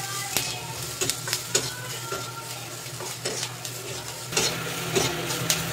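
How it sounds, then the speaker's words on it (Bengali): Turmeric powder and salt are stirred into a frying mixture in a pan, giving soft scraping stirs over a steady sizzle, with a few clinks and knocks against the pan, close and with no talk. "এবার দিয়ে দেবো অল্প হলুদ গুঁড়ো, লবণ দিয়ে দেবো স্বাদ মতন, দিয়ে এটাকে আমি মিশিয়ে দেবো।"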